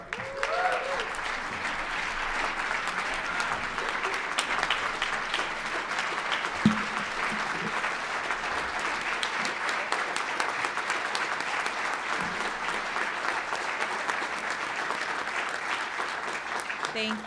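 Steady audience applause welcoming a speaker at an NEA women's observance event, a sustained wash of clapping from a large crowd that holds at an even level throughout.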